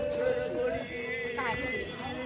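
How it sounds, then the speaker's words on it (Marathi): Horse hooves clip-clop along a car-free path in the Matheran hill station, producing soft, steady hoofbeats under people chatting nearby. "घोडा देखिए गाइस"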